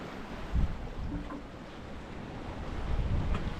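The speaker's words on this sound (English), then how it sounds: "the waves are getting a little more violent" Waves on Lake Huron wash against a sailboat, a continuous rough rushing and sloshing mixed with wind buffeting the microphone, swelling toward the end.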